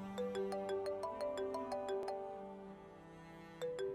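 A melodic phone ringtone in a Pakistani drama scene plays a repeating pattern of bright chiming notes, loud and close, cycling several times before briefly pausing and starting again.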